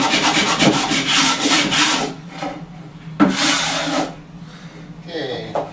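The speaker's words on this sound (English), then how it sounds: "take the sanding block." A sanding block rubs back and forth along the cut edge of a wooden door being trimmed down, a close, scratchy rasping in quick strokes with short pauses between passes.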